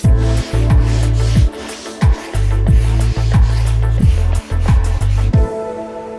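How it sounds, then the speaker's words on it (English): Repeated back-and-forth rubbing strokes of hand-sanding a wall, loud and close, in an uneven rhythm. "Once that's dry, you want to sand it down again."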